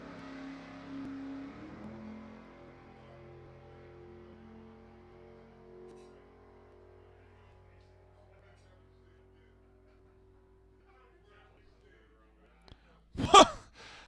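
A drag racing car launches hard down the strip on a solo run at an NHRA divisional race: a sudden loud, brief roaring burst near the end, after a long stretch of low idling engine rumble and ambient noise.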